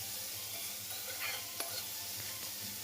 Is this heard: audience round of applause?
no